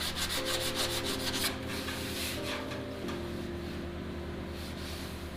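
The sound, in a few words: sanding body filler on a car fender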